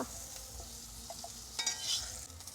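Pieces of fresh red bhetki fish frying in oil, a faint, low sizzle with soft stirring scrapes that swell briefly toward the end.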